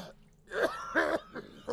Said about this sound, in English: So he was coughing underwater.